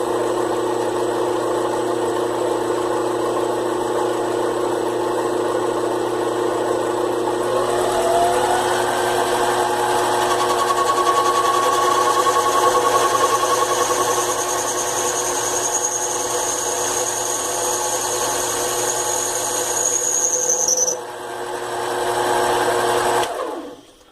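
A CX 704 minilathe parts off a metal collar. The motor whine and machining hum run steadily and close throughout, with a faint squeal creeping up midway, until the lathe winds down at the end.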